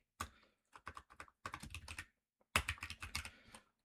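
Keystrokes rattle on a computer keyboard as an IP address is typed, arriving in quick uneven bursts with short pauses between groups, close and clear with no voices.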